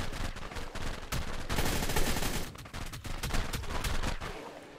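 Rapid gunfire in ARK: Survival Evolved: dense automatic bursts of shots, loud and close, running almost continuously with brief gaps.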